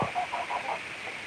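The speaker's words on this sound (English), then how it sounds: "seven birds in here, my chickens," Backyard chickens cluck in a pen on a desert homestead, with a turkey and a goose also present. Several short, soft clucks repeat in an uneven rhythm against a steady background hiss.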